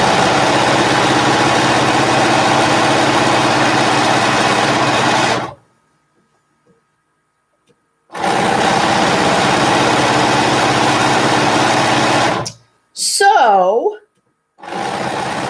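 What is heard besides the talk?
sewing machine sewing binding on a quilt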